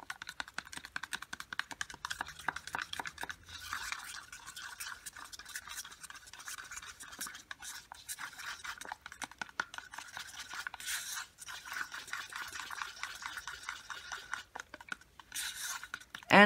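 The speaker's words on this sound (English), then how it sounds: "And you need to mix it very well." Acrylic paint being stirred into a homemade pouring medium of acrylic binder and primer, a steady soft scraping and clicking of the stirring stick against the cup, faint and continuous throughout.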